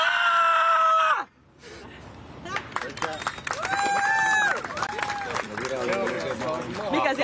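A person shouts loudly in a roaring contest, a sustained powerful yell that stops abruptly, followed by a noisy crowd reacting with cheers, shouts and clapping.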